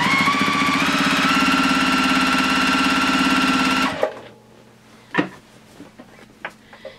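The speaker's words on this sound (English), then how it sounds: "I'm going to go ahead and just start sewing it." A sewing machine stitches black binding onto the edge of a quilt, running loud and steady with a rapid mechanical whir for about four seconds before stopping abruptly, followed by quieter handling clicks and rustles.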